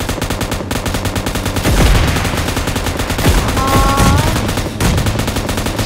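Gunfire in the mobile battle royale game PUBG Mobile, loud rapid automatic bursts layered over dense game effects and engine noise, continuing throughout with heavier blasts midway.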